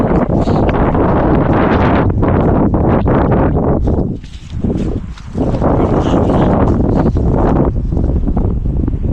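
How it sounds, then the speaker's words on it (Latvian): Strong wind buffets a microphone outdoors on a cold March day, a loud continuous rumbling roar that eases briefly midway and then surges back, with no voices heard. "Baigais vējš šodien."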